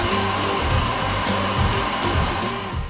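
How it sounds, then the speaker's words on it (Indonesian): A hair dryer blows steadily while drying hair, a continuous whirring rush of air with a faint motor hum, close and unbroken throughout. "Aku akan pakai pengering rambut ini kalau kamu gak keberatan."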